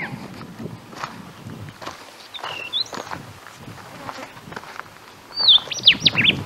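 Wild birds chirp in short high bursts on a hillside at Rigby Hill in the Blue Mountains, with a brief call near the middle and a louder flurry at the end, over footsteps and soft outdoor rustle.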